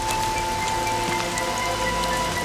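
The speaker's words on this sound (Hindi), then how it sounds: "बारिश हो रही है, अंदर आओ तुम" Rain falls steadily and close by, a dense continuous patter on surfaces with no voices, in a dubbed romantic Turkish drama scene.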